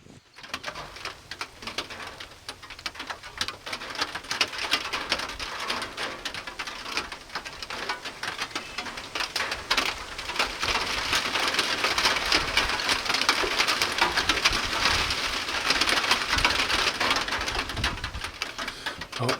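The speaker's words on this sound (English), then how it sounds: "It's got a metal roof, so this rain hitting it is making it pretty loud." Steady heavy rain drums on the metal roof of a hunting shanty, a dense continuous patter that swells louder partway through, close and enveloping with no talk.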